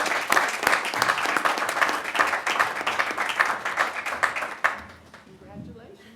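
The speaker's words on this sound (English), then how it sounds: "Let's give him a round of applause too." A room full of people at a commissioner meeting gives a round of applause, brisk, close clapping that stops abruptly, followed by a moment of quieter room sound with a faint voice.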